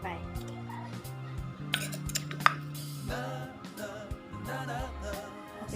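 Curry paste being stir-fried with a little coconut milk in a pan for a Thai noodle curry, with repeated clanks and scrapes of a utensil against the pan under steady music and someone talking.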